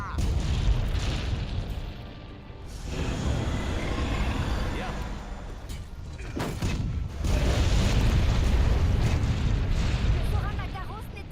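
In Monster Hunter World, loaded cannons fire and explosions boom in heavy deep bursts, rumbling continuously and loudly, with a voice talking over the battle noise.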